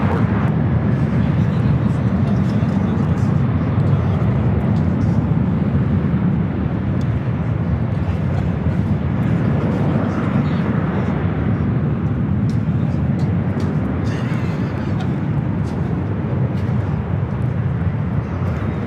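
Southwest Boeing 737-700 airliner at LAX bound for St. Louis, a loud, continuous engine roar sustained throughout with a voice faintly talking over it.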